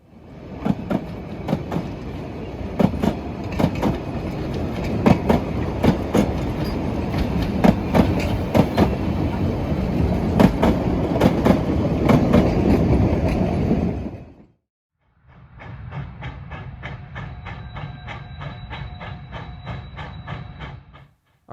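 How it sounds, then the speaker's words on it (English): A decorated narrow gauge steam train passes a Christmas light display at a grade crossing, its wheels clicking and clattering loudly and close for about fourteen seconds before cutting off; then a steadier, quieter rail rumble with a tonal hum follows. "we would catch the smartly decorated train passing a light display at North Genesee Road"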